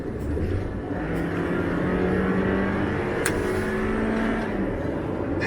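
A Toyota RAV4 with a naturally aspirated engine revs up, its engine note climbing smoothly and holding at a steady, moderately loud pitch with no talk over it.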